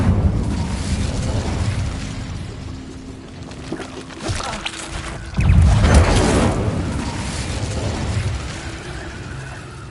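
A fiery Incendio spell blast in the video game Hogwarts Legacy, booming out in a broad roar that swells about halfway through over a rumbling combat soundscape.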